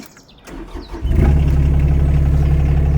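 A digger's heavy diesel engine cranks and catches, then settles into a loud, steady low rumbling idle, close by.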